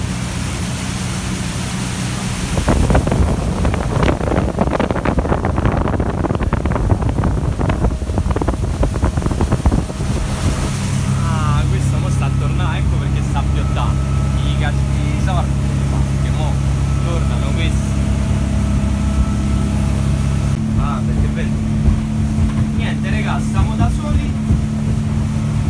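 A motorboat roars at speed near Gura Portiței, Romania, engine drone mixed with heavy wind buffeting and splashing water, while people talk loudly over the noise.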